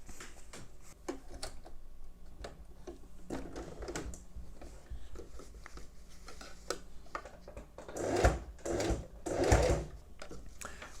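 A sewing machine stitches along a fold of bias binding, running in short bursts that swell to two louder runs near the end, with a person talking over much of it.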